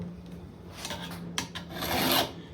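A hand file rasps along a tool blade in a few short rough strokes, close and fairly quiet, ending in one longer scraping pass.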